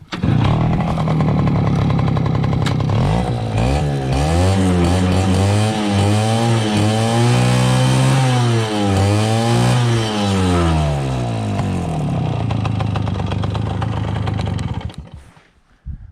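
A Romet Ogar 205 moped's two-stroke engine runs loudly up close, revving repeatedly with rising and falling buzzy pitch before dropping to idle and cutting off near the end.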